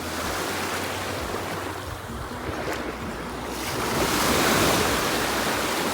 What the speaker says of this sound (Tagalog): Yan ang beach.